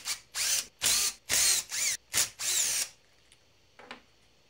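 Power screwdriver backing out screws from the filter housing of a Husqvarna chainsaw: six short, close whirring bursts in quick succession, then a quiet pause and a faint click.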